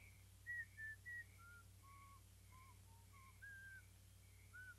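A person whistles a wandering tune of short separate notes, some held a little longer than others, close and clear over a low steady background hum, with no talking.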